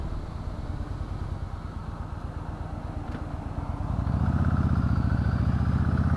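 A 2018 Yamaha Eluder motorcycle engine runs with a steady, close, low throbbing rumble while riding, then grows louder and deeper as the throttle opens near the end.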